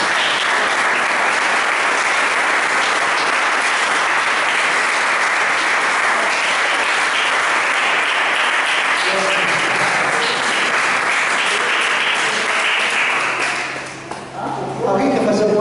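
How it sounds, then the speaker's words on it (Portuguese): A church congregation applauds at a religious gathering, a loud, sustained wash of clapping from many hands that continues for over ten seconds before trailing off, with speech faintly mixed in at the end. "Aplauda Jesus."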